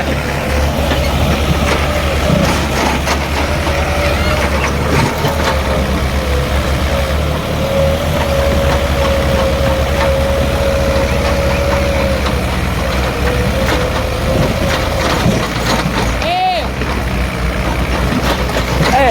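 A Mahindra Arjun tractor engine roars loud and steady during a tractor race against a New Holland Power King, a continuous heavy drone with brief voices faint beneath it.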